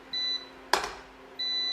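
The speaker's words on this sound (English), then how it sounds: "Oh, it's beeping." A kitchen appliance beeps during freezer meal prep: two steady electronic tones, one early and one at the end, loud and close, with a short clatter between them and no talking.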